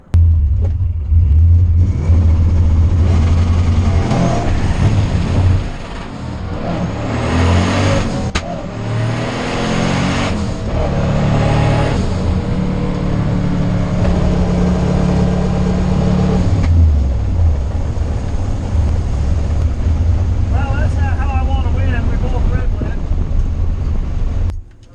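A race car engine runs rough and misfires, droning loudly and unevenly throughout with changing revs, while a driver talks over the noise.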